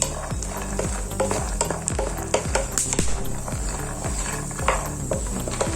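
Peanuts rattle and scrape in a pan as they're stirred, with a steady crackling sizzle and repeated scraping strokes throughout.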